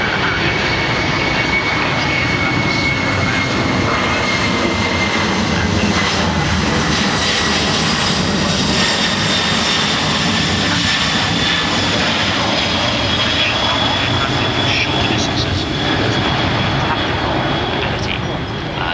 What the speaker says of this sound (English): the jet efflux that comes out of the two inboard engines, that's the ones closest to the aircraft fuselage